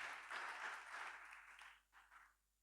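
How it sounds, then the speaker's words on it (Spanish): A church congregation applauds together, a dense wash of clapping that swells and holds, then thins into a few scattered bursts before fading out. "bríndele un aplauso al Señor Jesucristo"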